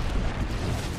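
A short, low, rumbling blast from a grenade explosion in Apex Legends, dense and boomy for about a second with no voices over it.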